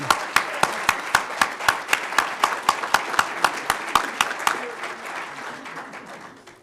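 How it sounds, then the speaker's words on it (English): At a volunteer award ceremony, an audience applauds the year's group honorees; sharp, evenly spaced claps drive a rhythmic beat over general applause before it gradually fades. "Let's give a round of applause to all of you."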